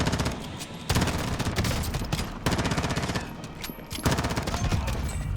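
Rapid gunfire hits the player in a shooter video game played on an Asus ROG Strix G15 laptop, in dense, loud repeated bursts with brief gaps.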